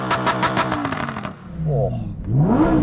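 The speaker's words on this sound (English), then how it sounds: "that just revs up so freely. I love a V10." A V10 Lamborghini Huracan engine revs hard, its pitch sweeping up and down in sharp bursts, loud and close, with a brief gap between revs.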